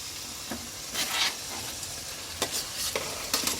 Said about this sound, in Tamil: நல்லா வதங்கின பிறகு திரும்ப காமிக்கிறோம் தக்காளி போட்டு இப்போ வதக்கிறோம்